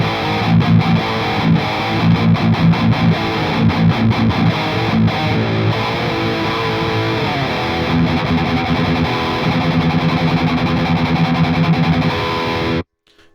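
A distorted electric guitar played through a custom impulse response captured with an X2 microphone on the speaker's dust cap, with loud, steady chugging riffs and sustained chords that stop abruptly near the end.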